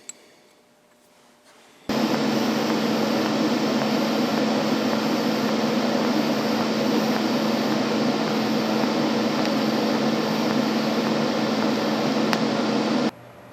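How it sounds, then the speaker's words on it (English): Metal for a steel branding iron being welded: a steady, loud crackling hiss starts abruptly, holds for about eleven seconds without a break, then cuts off sharply into quiet. "We're just going to weld that in there."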